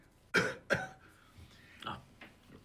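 Two sharp coughs close together, followed by a quieter throat-clearing sound a moment later.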